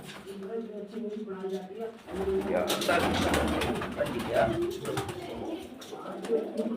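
Soft low cooing from pigeons, including a nesting pair on eggs, repeats under ongoing talk, with a denser rustle of movement in the middle, all fairly close.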